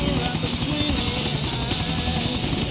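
Helicopter in GTA 4 coming in to land beside an airport loading dock, a loud, steady rotor thrum and turbine whine filling the whole stretch, close and continuous.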